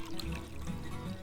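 Coffee being poured from a cup into a measuring container beside a Hyundai i30N with a DCT gearbox, a short soft trickle close by with no voices.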